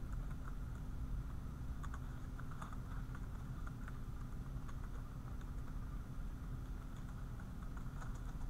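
Faint, sparse keystrokes on a computer keyboard tick over a steady low hum of background noise.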